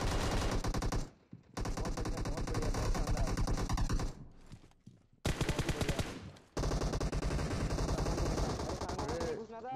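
Gunfire in PUBG Mobile, long loud bursts of rapid automatic shots broken by brief gaps, dense and close, with players' voices talking between them.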